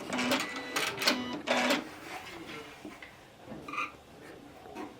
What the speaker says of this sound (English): I'm going to do a scissor cut.